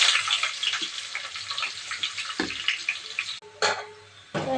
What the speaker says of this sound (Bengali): পেঁয়াজটা লাল লাল মতন ভাজা হয়ে গেছে।